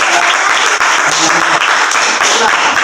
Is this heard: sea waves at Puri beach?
no